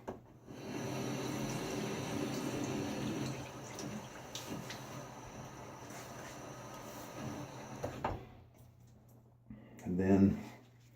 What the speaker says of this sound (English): A little rinse on the face.